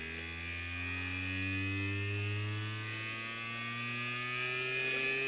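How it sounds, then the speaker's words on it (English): Bedini magnetic levitation motor running on a small 9-volt battery, giving a steady close electric hum with layered tones that slowly shift in pitch, continuous and alone. "Now this thing is a really a hummer."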